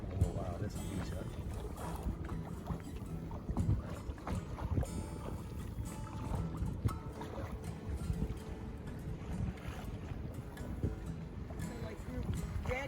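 Wind buffets a small Nordica 16 sailboat under sail, a constant gusty rush and rumble on the microphone with water and hull noise beneath and occasional talk.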